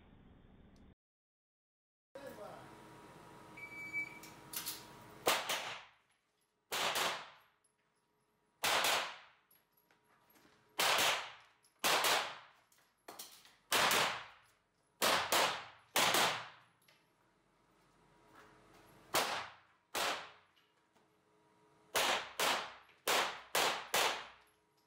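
9mm pistol shots crack out during an IPSC practical shooting exercise, about eighteen sharp, loud reports fired in quick pairs and short strings, separated by brief pauses.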